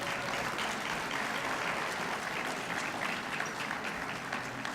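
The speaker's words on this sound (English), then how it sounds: "I want to give her a round of applause" Applause rises from the audience at an Africa Diaspora gathering expecting Ghana's president, a steady, evenly sustained roar of many clapping hands at a moderate distance.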